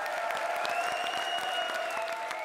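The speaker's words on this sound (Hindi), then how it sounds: "जोरदार तालियों से इनका स्वागत कीजिए" A studio comedy audience gives a comedian a steady, loud round of applause. Sustained music with a rising tone plays over the clapping.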